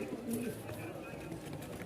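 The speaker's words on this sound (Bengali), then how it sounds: "এই এক জোড়া ড্যানিশ কবুতর দেখায়।" A pair of Danish pigeons coo briefly at the pigeon market in Mirpur-1, Dhaka, a single low throaty coo amid crowd chatter and market din.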